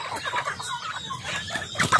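Chickens clucking close by in short, busy bursts, with a sharper squawk near the end.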